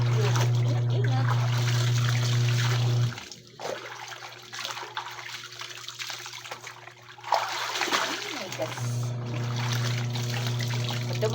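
Water flows and trickles steadily at close range, broken by a quieter stretch midway, with a constant low hum running beneath it.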